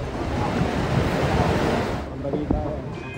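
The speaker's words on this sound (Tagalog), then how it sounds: "Kasabay ng buhos ng ulan ang malakas na bugso ng hangin na may kasama pang kulog at kidlat" Heavy rain pours with strong gusting wind during a thunderstorm in Guimba, Nueva Ecija, a loud continuous roar of downpour and buffeting wind close to the microphone, easing slightly near the end.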